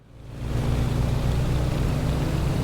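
A Junkers Ju 52 aircraft's engines in a flight simulator spool up from quiet to a loud, steady roar within the first half second, then hold at a constant droning pitch.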